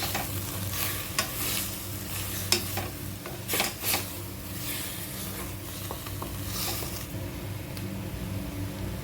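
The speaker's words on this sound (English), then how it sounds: "chopped ginger and garlic and green chilies, and roast it for again 2 minutes" Chopped ginger, garlic and green chilies roasting in a pan, a steady close sizzle and fry with a spoon stirring and scraping through it, no talking.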